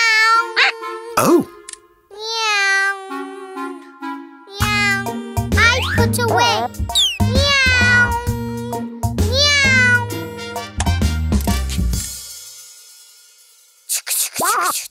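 A voice imitates a cat with drawn-out, playful meows, mixed with a burst of bright animated music.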